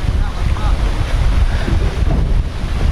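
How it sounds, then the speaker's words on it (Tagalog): Strong wind roars across the microphone on top of a boat at sea, a loud, constant rumble mixed with wave wash, with faint voices underneath. "Hangin na guys oh, sugo naghangin oh."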